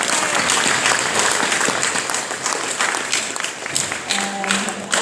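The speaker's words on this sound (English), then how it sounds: "we'll give her a big round of applause anyway" A crowd at the Kingwood 25 years celebration at Didcot breaks into steady applause, dense clapping from many hands filling the room, with a brief murmur of voices underneath.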